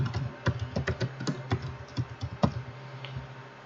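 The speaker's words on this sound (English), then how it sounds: "I can't type tonight." Quick, uneven clicking of keys on a computer keyboard, close and moderately loud, in short bursts over a low steady hum with no speech.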